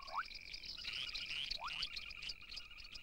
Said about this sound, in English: As night falls, the frog orchestra tunes up.